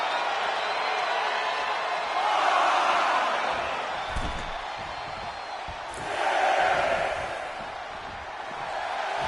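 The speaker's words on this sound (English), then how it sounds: "Montez Ford getting the crowd riled up right now" A WWE wrestling arena crowd roars and cheers, a broad wash of noise that swells in two loud waves, with thuds from the ring and commentary underneath.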